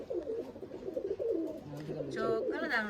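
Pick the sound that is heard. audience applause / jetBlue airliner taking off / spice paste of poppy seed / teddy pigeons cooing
teddy pigeons cooing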